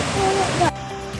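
Steady broadband rush of falling water for most of the clip, cutting to a quieter background near the end; a faint voice-like tone rides over it.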